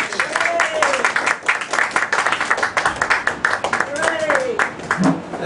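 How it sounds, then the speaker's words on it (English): Audience applause at a World Cup festival event, steady dense clapping throughout, mixed with talk and crowd noise. "Please put your hands together for Pinchas Levinson."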